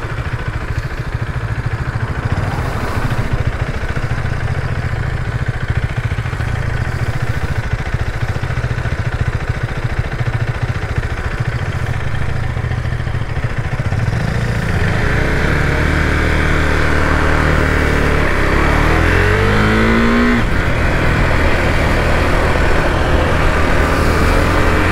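A 2020 Husqvarna Vitpilen 401 motorcycle being ridden with a quick shifter, its single-cylinder engine droning steadily under wind noise, then revving up through rising gears in the later part.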